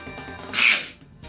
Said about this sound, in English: That's a sneeze.